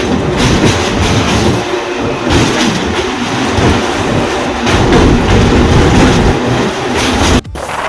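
A train crosses the old Kolaghat rail bridge over the Rupnarayan river on the Howrah–Kharagpur line in West Bengal, roaring loud and continuous with a rattling clatter of wheels heard close by.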